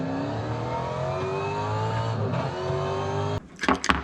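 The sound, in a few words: V8 supercar engine in racing sim video game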